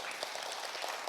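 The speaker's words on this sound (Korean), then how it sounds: "자기 자신을 칭찬하면서 박수 한번 쳐주세요" Lecture audience at a seniors' school talk clapping together: a faint, dense patter of many hands, brief and even, with no voices.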